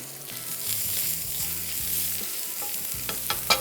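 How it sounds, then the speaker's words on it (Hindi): Minced meat mixture for baked Turkish kebab frying as its fat melts, a soft continuous sizzle under a low humming tone, with a few sharp scrapes and a clink near the end. "और अब हमने थोड़ा सा इसको फ्राई करना है, हल्का से चर्बी मेल्ट होगी"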